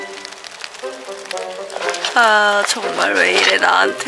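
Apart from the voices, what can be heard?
heavy rain falling on a tent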